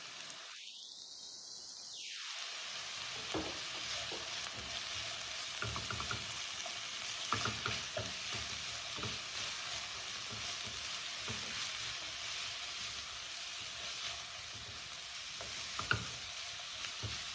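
Bitter melon seasoned with onion powder and a dash of soy sauce fries in a pan, giving a steady, fairly quiet sizzle with small crackles throughout. A louder whoosh opens the sound before the frying settles into an even hiss.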